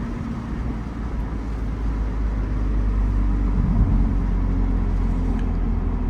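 The engine of a 2011 BMW Z4 sDrive 2.5 with luxury trim hums low and steady while driving, then swells slightly louder partway through, alone with no voices.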